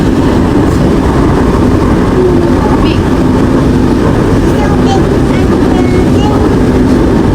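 Light rail LRT train ride in Manila, with a loud, steady rumble of the moving carriage filling the whole stretch and faint voices mixed beneath it.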